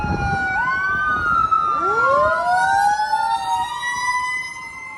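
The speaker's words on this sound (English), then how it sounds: "Let's let these ambulance pass by." A wailing emergency siren sweeps up and down as the vehicle passes close by, loud and continuous with several overlapping tones and traffic rumble underneath.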